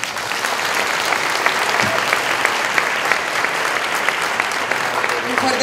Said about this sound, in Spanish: Un fuerte aplauso al licenciado Torres.